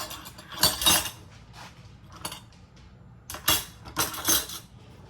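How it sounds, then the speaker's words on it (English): Metal cutlery clinks and rattles as a spoon is pulled out of a drawer, a few sharp close bursts of jangling separated by quiet pauses. "Let me get a spoon out."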